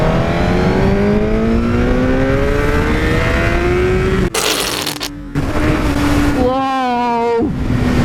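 A Suzuki GSX-R1000R sportbike in second gear accelerates hard, its engine note climbing steadily in pitch, then a brief gear change and a renewed rising howl, loud and close with wind rush.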